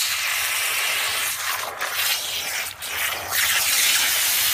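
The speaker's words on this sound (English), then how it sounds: "It's high pressure water." A loud, steady hiss of high-pressure water spraying into soil around a curry leaf plant being transplanted, close by, with brief dips in intensity and no speech.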